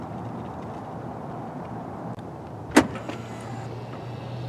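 An electric door handle on a 2020 Jaguar I-Pace EV deploys with a single short, sharp mechanical whir-click near the microphone, standing out briefly against a steady low hum of garage background noise.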